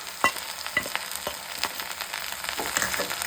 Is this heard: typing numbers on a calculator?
no